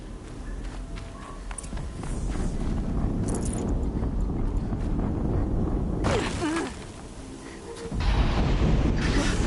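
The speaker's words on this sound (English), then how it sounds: "explosion." Explosions in a tank combat game: a heavy, rumbling background swells into two loud, broad booming blasts near the end, with no voices.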